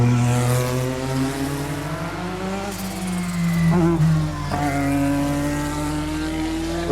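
A high-revving Honda-engined Williams FW11 Formula One car screams loudly and continuously, its pitch sweeping up and down through gear changes, with constant roaring mechanical noise throughout.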